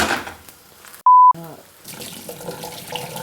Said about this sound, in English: sometimes the oil can splash back on you like it just did then